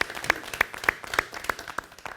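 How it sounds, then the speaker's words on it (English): Sparse, spaced hand claps from a small audience at a sports club's Mariners show, fairly quiet with distinct individual claps. "Round of applause."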